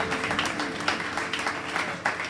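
A church congregation at a morning service applauds, with dense, continuous clapping from many hands that stays at an even, moderately loud level throughout.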